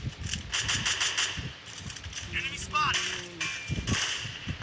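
Sniper gunshots in an online shooter game, heard as a run of sharp, whip-like cracks, some in quick clusters and some spaced apart, close and fairly loud over game noise.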